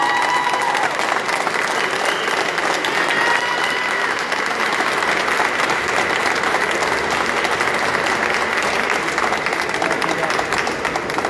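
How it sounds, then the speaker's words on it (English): A crowd at a gun rights rally applauds loudly and continuously, a thick roar of clapping with scattered voices and cheers mixed in. "give yourselves a round of applause."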